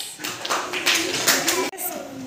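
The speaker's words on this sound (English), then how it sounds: "Clap for Paris." A classroom of children clapping together, a dense and fairly loud burst of applause lasting a couple of seconds with a brief break near the end.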